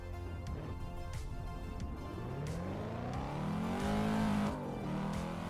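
In the racing game Assetto Corsa, a Volvo car's engine is floored, its tone climbing steadily through a rising rev with gearshift breaks, loud and close throughout.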